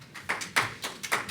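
A few scattered claps ring out in an inquiry hearing room, a brief, irregular patter of individual hand claps, close and distinct with no talk.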